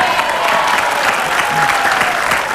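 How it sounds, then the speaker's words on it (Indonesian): A studio audience at a television talk show gives loud, steady applause, a thick continuous patter of many hands clapping throughout. "Tepuk tangan untuk semuanya."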